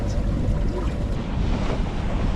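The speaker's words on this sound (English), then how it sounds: "we are out on a nice windy day" Wind blows across the ocean while sailing in an 8 to 10 knot breeze, a loud steady rush with microphone buffeting and water noise, no voices.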